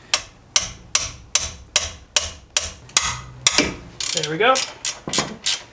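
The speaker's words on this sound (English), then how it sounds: "what I like to do is put a wrench on it," A wrench ratchets on a Hyundai Ioniq brake caliper bolt, a series of sharp, evenly spaced clicks up close, then a quick burst of faster ratcheting with a brief voice in between.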